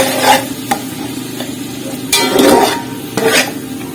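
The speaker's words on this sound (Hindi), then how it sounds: "अब हम इसको तकरीबन 2 मिनट तक इसकी भुनाई करेंगे।" Whole spices frying in oil in a pan for chana pulao, a steady sizzle broken by a few scraping stirs of a spoon against the metal.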